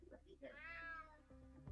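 A cat in the video game UnMetal lets out a single short meow, rising and falling over about a second, heard close and clear.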